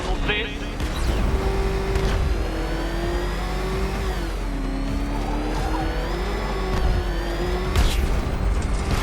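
Batmobile engine revving hard in Batman: Arkham Knight, a loud sustained mid-pitched drone that rises and dips with throttle, with brief bursts of boom and tire noise and a voice talking over it.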